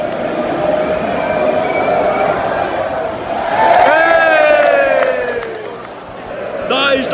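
A football crowd at a Chelsea versus Leicester match roars and chants in the stadium, swelling loudly in the middle, with nearby voices and whistle-like tones rising above the din.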